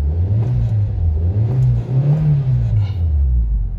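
An older Nissan March with freshly replaced spark plugs and silicone ignition wires revs repeatedly, its engine note rising and falling in smooth close-up surges over a low rumble.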